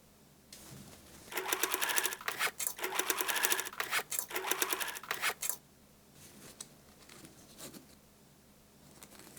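A sewing machine running stitches through a shoulder-bag lining made from old denim jeans, several close bursts of rapid mechanical chatter over a few seconds, then quieter handling and faint rustling.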